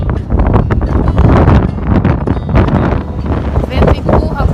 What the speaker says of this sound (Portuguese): O vento empurra com tanta força